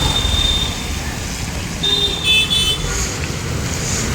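Scooters and other vehicles pass along a muddy, rain-soaked road in Nalasopara during the first rain, a steady roadside traffic rumble broken by brief horn toots.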